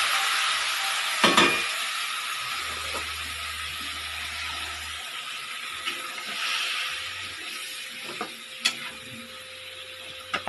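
Shrimp and garlic sizzle in a pan as they are stirred, with a steady hiss broken by a few scraping clinks of the utensil against the pan, close and moderately quiet with no talking.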